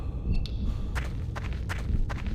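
Footsteps in the video game The Suffering land in a slow, uneven series of soft thuds, about five steps over a low rumbling ambience.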